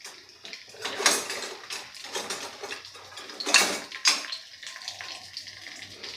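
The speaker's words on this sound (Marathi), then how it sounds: "आता जिरं आणि मोहरी छान अशी आपण फुलवून घेऊ" Cumin and mustard seeds crackle in hot oil in a pan, a close, bursty sputtering that swells and fades in uneven waves over a quiet background.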